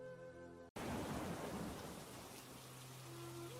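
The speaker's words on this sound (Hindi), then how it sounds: "बारिश का मौसम शुरू हो चुका था। जोरों से बारिश हो रही थी।" A heavy downpour with rumbling thunder, a cartoon sound effect, bursts in after a brief snippet of tonal music and then roars on as a dense, steady wash of rain.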